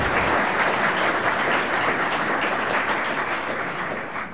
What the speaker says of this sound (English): so let's give him a round of applause just for that